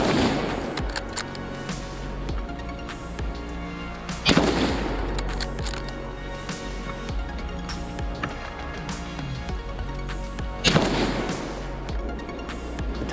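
A 1940 6.5 Carcano rifle fired in a reenactment from a moving bucket lift: two sharp, loud shots roughly six seconds apart, each cracking out over a steady, noisy background.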